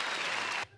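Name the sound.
applause sound effect played by the host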